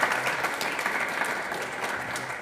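A conference hall audience at the end of a European Forum Vienna panel applauds in a continuous, even roar of many clapping hands, heard alone at moderate loudness.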